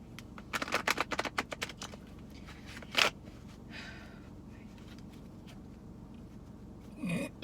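Tarot cards are shuffled by hand: a quick riffle of rapid flicks at the start, then a single sharp slap. A quieter card rustle follows, and a brief knock comes near the end, with no voices.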